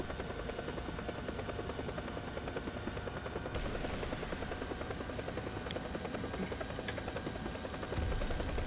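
An Mi-35 attack helicopter in War Thunder churns with a steady, dense rotor and engine drone. It holds continuously at moderate level, with a brief sharp rise partway through and a louder swell near the end.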